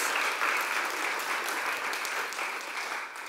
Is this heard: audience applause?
yes